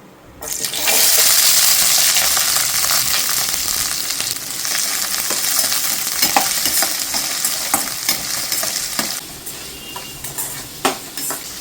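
Mustard seeds, chopped onion and green chilli fry in hot oil in a pan, a loud, steady sizzle with crackling pops from the seeds and occasional stirring clinks running throughout, with no one speaking.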